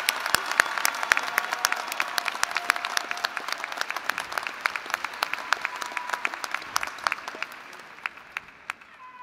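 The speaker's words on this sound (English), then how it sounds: "can we just give one more round of applause for our extraordinary student speaker" Commencement ceremony audience applauding a student speaker, dense sustained clapping from a large crowd in a hall that gradually thins and fades toward the end.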